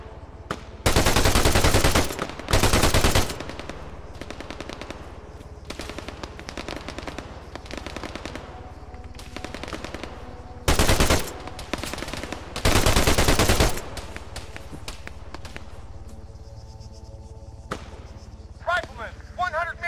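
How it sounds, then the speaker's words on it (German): Arma 3 gunfire cracks out in loud rapid bursts of automatic fire, some long volleys and some single shots, close by, with someone talking in German between them. "Die Schüsse hören sich sehr nah an mir dran an."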